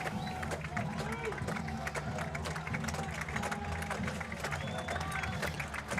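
Crowd at a high school football regional playoff game, Tonganoxie Chieftains at Chanute Blue Comets, cheering and clapping in a steady, dense roar from the stands, with commentary voices talking over it throughout.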